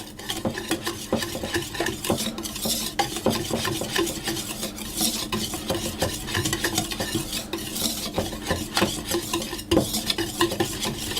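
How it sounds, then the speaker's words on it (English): Dry ingredients for a milk bread loaf, including sugar, are mixed round in a large bowl, a continuous scraping, rasping stir with quick repeated strokes, close and steady without any speech. "I'm going to put them into a large bowl and just mix them round."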